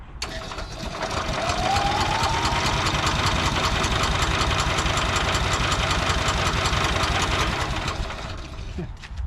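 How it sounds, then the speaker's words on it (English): The small gas engine of an EZGO Workhorse 1200 utility golf cart, on choke, cranks and runs with a steady mechanical chugging hum for several seconds, loud and close, then winds down. "I'm gonna start the engine. It's on choke. See if the engine starts."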